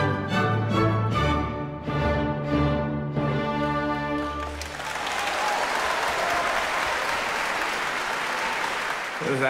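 At a Lexus Song Quest 2014 singing competition, a sung operatic phrase ends and a large audience breaks into loud, sustained applause that carries on to the end with no talking.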